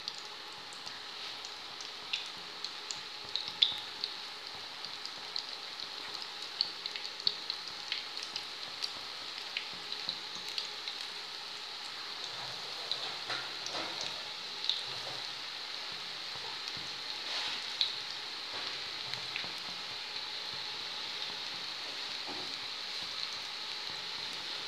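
Lisan al-tayr pastry fries in hot oil, a continuous soft sizzle dotted with light pops and crackles that stays moderately quiet and even throughout.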